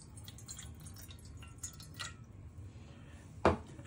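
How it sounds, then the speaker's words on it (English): Soft drips and light splashes of water falling into a silver bowl, quiet and close, with a brief louder pour toward the end. "you can add some water"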